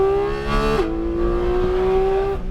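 A sports car accelerating on the Sonoma race track, a brief, loud engine note that drops in pitch with a gear change and then holds steady and strong.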